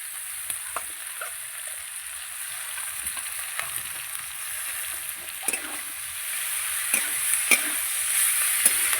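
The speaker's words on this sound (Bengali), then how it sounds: "সিমটা আমি ভেজে নিয়েছি এবার দিয়ে দেবো শাক এই যে বেতর শাকটা দিয়ে দিচ্ছি" Chopped bathua greens are added to beans already frying in a pan and stirred, giving a steady sizzle with scattered scraping clicks of the spatula; no one speaks.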